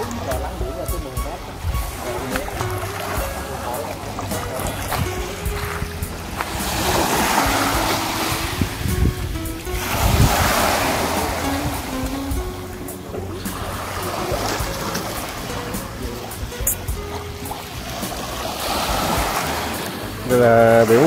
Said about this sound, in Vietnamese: Đây là biển Ba Hồ nha các bạn.